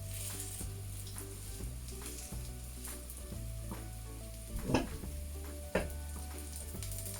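A vegan Beyond Meat-style burger patty sizzles steadily in a pan after being flipped and pressed flat, with a continuous frying hiss and a few clinks and scrapes of a utensil against the pan.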